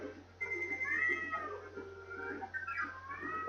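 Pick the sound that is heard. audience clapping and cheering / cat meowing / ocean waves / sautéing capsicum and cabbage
cat meowing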